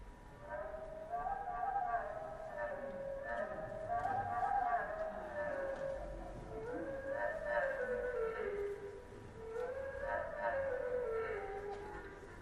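Slowed-down veery song: low, wavering, flute-like phrases that spiral downward, repeating about every three seconds with a soft, continuous background hum.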